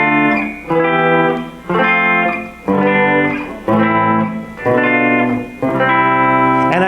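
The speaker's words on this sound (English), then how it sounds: "I'm going to give each note in the scale a chord of its own." A rock-harmony chord scale with a chord on each scale note, played as a sequence of about seven sustained, distorted, effects-laden chords, each struck loud and held for about a second before the next.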